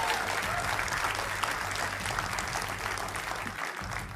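Steady, dense applause from a television studio audience welcoming a BJP member of parliament onto a Hindi political debate show, sustained and even for the whole stretch.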